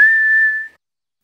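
A single clear whistled tone from a cartoon character held steady for over half a second, then fading out, close and loud.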